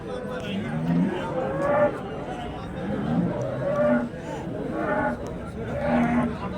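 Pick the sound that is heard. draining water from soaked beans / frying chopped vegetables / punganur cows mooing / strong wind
punganur cows mooing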